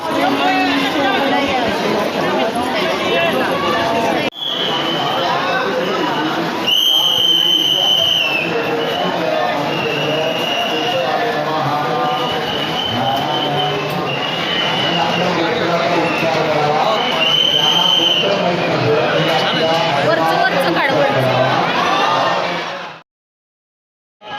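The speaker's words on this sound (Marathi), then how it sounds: "खूप म्हणजे खूप गर्दी होती तिथं" Dense crowd hubbub at the Dagdusheth Halwai Ganpati temple in Pune, a steady wash of many overlapping voices throughout, with a few brief brighter tones rising above before it cuts off near the end.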